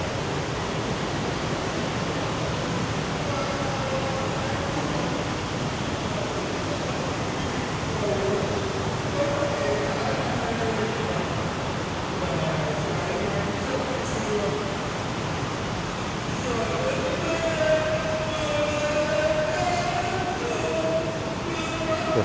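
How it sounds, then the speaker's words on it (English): A train at a Ho Chi Minh City Metro platform with platform screen doors, a sustained loud rumble and rolling hiss throughout, with faint tonal squeals and background voices mixed in. "Here's the Metro platform."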